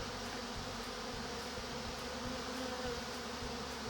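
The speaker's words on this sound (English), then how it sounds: "And these crazy bees are all in my shop." Steady, close insect buzzing of honeybees inside a shop, a dense continuous drone of many bees with no voices.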